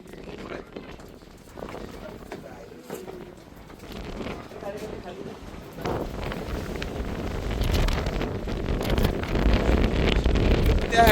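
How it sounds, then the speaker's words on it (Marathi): Strong wind gusts roar against the microphone on a hilltop at Lohagad Fort in Maharashtra, building to a loud, steady rumble in the second half, with someone talking throughout. "त्या साईडला वारा खूप जोराचा आहे"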